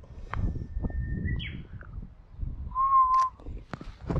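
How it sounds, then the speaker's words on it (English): A bird calls outdoors on an island with two clear whistled notes separated by a pause, over low rumbling wind and handling noise, with a few scattered clicks. "There's a bird right there."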